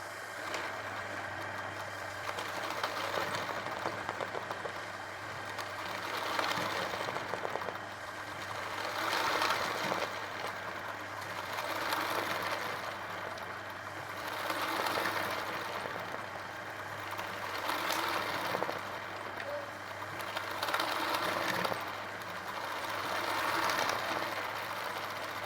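An embroidery sewing machine works a rice stitch pattern, its motor running in a steady close hum that swells and eases in regular cycles as each line is stitched, with no talk.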